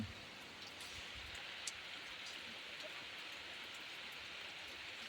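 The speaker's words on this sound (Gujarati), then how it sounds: "તમને એક ધારો વરસાદ મંડાઈ ગયો છે" Steady rain falls continuously, a dense even hiss with a few louder drops close by, and no voices.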